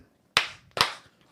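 Two sharp claps from an audience, spaced about half a second apart, each ringing briefly in the room, with no talk over them.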